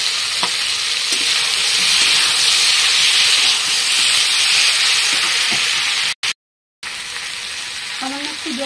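Green chili paste, cumin and ginger sizzle steadily with fried potato and pointed gourd in a pan, a loud continuous hiss with faint stirring, briefly cutting out before resuming.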